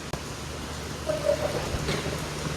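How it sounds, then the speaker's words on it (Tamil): Heavy rain falls steadily outdoors during a flood in Jaffna, Sri Lanka, a dense constant hiss of water with no break and a faint tonal sound briefly audible in the middle. "நல்ல மழை அடிச்சு கொண்டிருக்கு பாருங்க"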